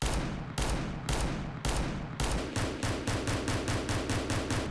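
Rapid gunfire from the R8 Revolver in CS:GO: a loud, steady string of sharp shots, first at a slower pace of roughly four evenly spaced blasts, then quickening into a fast, regular volley, with no talking.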